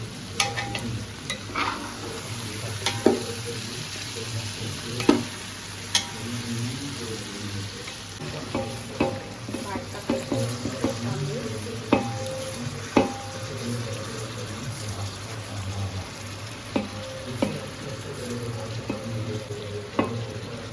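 Masala rice with kasuri methi being stirred in a hot pan, soft sizzling under a run of irregular spoon scrapes and clinks against the metal, close and moderately quiet, with no talking.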